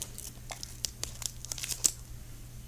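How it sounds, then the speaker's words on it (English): Scissors cut open a packet in quiet, crinkly snips and tearing crackles, a quick uneven run of close, soft bursts. "let's cut this open"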